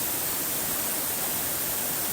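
The Wufengqi waterfall in Jiaoxi gives a constant broadband hiss of falling water, steady and unbroken, with no voices over it.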